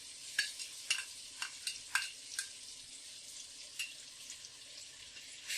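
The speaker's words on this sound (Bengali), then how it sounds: "মশলাগুলোকে ভালো মতো মিশিয়ে নেব। যেন নিচে লেগে না যায়।" Garlic and ginger paste with onion paste and spices being stirred in a pan for duck meat bhuna, a quiet run of sharp spoon taps and scrapes over a faint sizzle.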